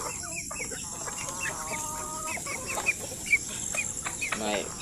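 Farm chickens clucking and calling in a steady, busy chorus, with several overlapping birds close by and one sharper call standing out, over continuous background noise.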